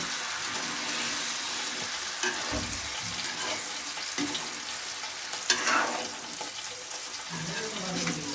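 Yardlong bean curry with spices and big fish stirred in a pan, a steady loud sizzle with occasional utensil clinks and scrapes throughout.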